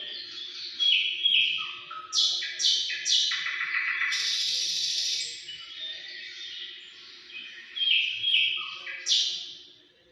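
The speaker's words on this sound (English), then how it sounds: "What did you feel when you hear the nightingale singing?" A nightingale sings alone in quiet surroundings: varied whistles, rapid trills and buzzy phrases in bursts with short pauses, fairly close and clear.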